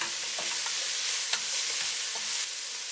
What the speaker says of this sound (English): Add the white part of the bok choy. Stir for 30 seconds.